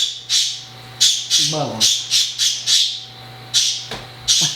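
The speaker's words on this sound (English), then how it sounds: "That's the bird." A bird squawks repeatedly in sharp, loud bursts at a regular pace close by, with a person's voice briefly in between.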